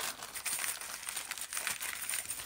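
A plastic bag crinkling during the unpacking of a Temu haul, continuous close rustling and crackling across the whole stretch with no talking.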